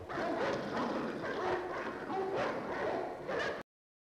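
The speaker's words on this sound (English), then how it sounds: "You gotta get some dogs fighting up in here." Dogs bark, yip and snarl as if fighting, inserted as a sound effect: several loud, rhythmic bursts close up that cut off abruptly near the end.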